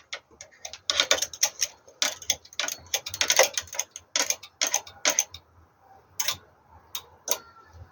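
Knitting needles click steadily in quick, irregular taps while casting on stitches for a baby garment, close up and fairly crisp.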